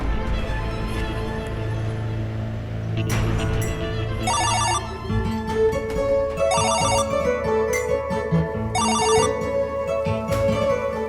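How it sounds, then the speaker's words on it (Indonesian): A mobile phone ringtone plays loudly and steadily, with repeating bursts of bright trilling tones over a continuous melodic backing, with no talking over it. "Tapi tidak mungkin dia tidak mendengar suara handphone ini."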